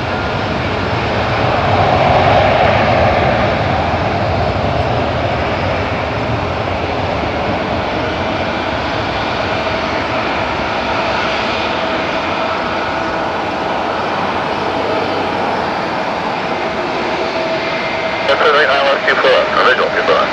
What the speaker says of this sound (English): clear take off runway 23